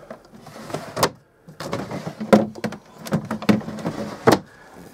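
Drawers in a 2005 Coachman Amara four-berth caravan slide open and shut, giving several sharp knocks and rattling slides in quick succession, close and fairly loud, with short quiet gaps between them.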